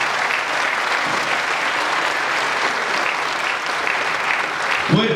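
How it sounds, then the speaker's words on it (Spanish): An audience applauds a lecture speaker on cultural tourism in Málaga, Spain, with steady, dense clapping from a sizeable crowd that holds at an even level for several seconds. "que se haga fuerte el aplauso para el doctor Francisco José Rodríguez Marín"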